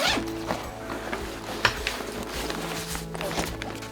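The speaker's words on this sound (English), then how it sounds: "zip it closed" A zipper closes on a Peak Design 45L Travel Backpack camera cube, a close, steady rasping run with a few soft bumps and handling thuds.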